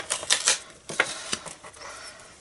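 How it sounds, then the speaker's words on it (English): Scissors or a paper trimmer cutting down a card panel for stamping, several short crisp snips and slices at uneven intervals, close and fairly quiet with no talking. "So let's cut this panel down because we've got a little bit of white area which we don't want."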